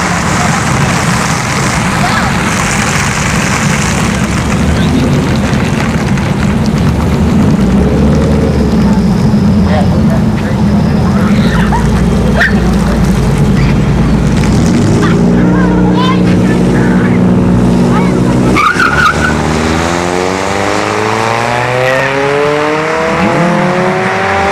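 Nissan Titan pickup and Chevrolet Caprice drag racing down a dragstrip at a test-and-tune event, engines roaring loud and steady, then a pass-by with a falling engine note near the end, while an announcer talks over it.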